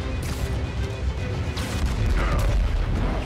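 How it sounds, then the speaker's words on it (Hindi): Explosions in the Spider-Man Miles Morales video game during the fight against Rhino: heavy low booms and crashing impacts rumble continuously, loud and close, with no voices. "यार धमाके भी करते हुए जा रहा है।"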